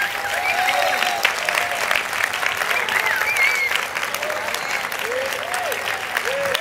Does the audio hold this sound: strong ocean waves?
no